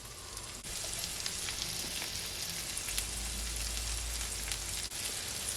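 Garlic butter shrimp fry in a pan with a steady, dense sizzle that holds the whole time, close and fairly loud, with no talking.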